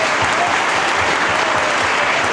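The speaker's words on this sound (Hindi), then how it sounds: "एक बार आप सबके लिए जोरदार ताली" Loud, dense applause from a crowd at a live Marwari comedy show, a short, even burst of many hands clapping close by with no speech over it.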